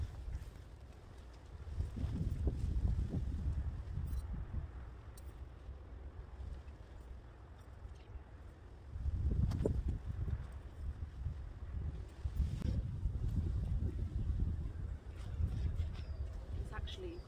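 Gusty wind buffets a microphone outdoors on a cold day while a garden path is being laid, coming in low roaring surges with quieter lulls between them.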